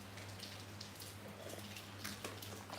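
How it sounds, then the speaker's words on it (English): Steady rain falls outside, a soft continuous patter with scattered drops heard from indoors under a low constant hum, no one talking. "If you could hear, it's raining."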